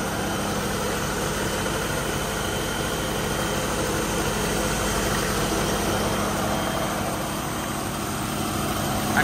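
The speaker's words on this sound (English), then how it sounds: "32 years off the road, and it's sitting here idling." A 1973 Chevrolet Nova four-door, back running after 32 years off the road, idles steadily on fast idle choke, giving a continuous close rumble with slight vibration and no talk.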